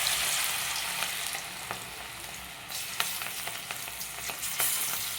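Cabbage 65 pieces coated in gram flour batter fry in hot oil in a kadai, giving a steady close sizzle and bubbling with a few sharp crackles and pops, without speech.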